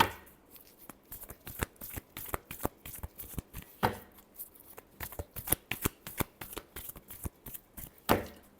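Tarot cards are shuffled by hand in a steady run of crisp riffling flicks and soft slaps, close and fairly quiet, with short pauses between bursts and no talking.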